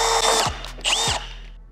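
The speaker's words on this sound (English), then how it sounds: "now you can just go ahead and drill your other holes." A power drill bores holes for a Toyota N70 Hilux twin snorkel bracket in two loud, close bursts of whining motor that rise, bite and spin down, with no talking.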